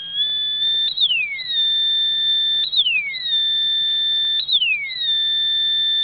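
Electronic siren circuit with a potentiometer, pure high tones that sweep downward and jump back up in a repeating two-tone pattern about every two seconds, steady and clean with no voice.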